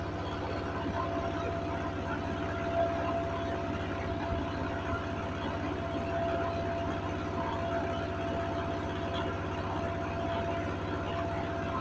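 A large generator runs close by, a steady low mechanical drone with a constant hum that holds evenly throughout without pauses.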